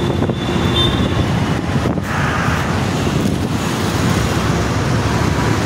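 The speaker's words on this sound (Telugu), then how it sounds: "చూడండి ఎంత ట్రాఫిక్ ఉందోనండి." Continuous road traffic roar on a busy Hyderabad street near the metro, dense and steady with wind rumble, and passing vehicles swelling briefly.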